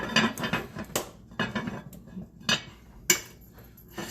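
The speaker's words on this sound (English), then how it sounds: "so now we just put the lid on" Heavy metal clanks and clinks sound close up as a lid is set onto a cast iron Lodge pot of collard greens, several knocks spread irregularly over a few seconds.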